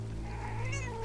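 A house cat gives a single short meow, close and fairly quiet, with no talk over it.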